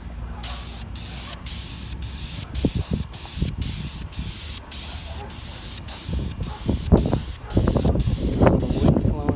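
VHT wrinkle paint hisses from a shaken aerosol can in a series of about a dozen short, sharp bursts, close and loud, over a rattling, knocking background from the shaking.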